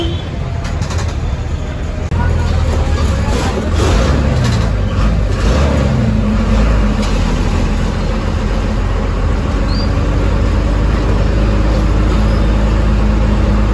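MSRTC bus pulling out of the Kagal depot, its engine a steady, loud low rumble that builds after the first two seconds and holds throughout, with faint background clatter.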